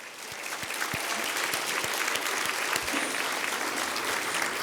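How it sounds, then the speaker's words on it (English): Sustained applause from an audience at a charity hall of fame gala, a steady dense wash of many hands clapping at even loudness, with a few low thumps underneath. "Can we give that a round of applause?"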